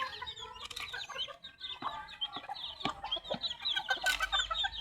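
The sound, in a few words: chickens clucking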